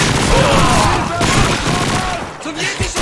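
A grenade goes off amid a World War II battle in Call of Duty 2: a loud, dense roar of blasts and gunfire that fills the space, with shouting voices mixed in.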